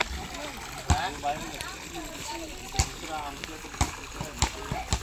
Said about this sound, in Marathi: पाणी भरायला लावलंय आता.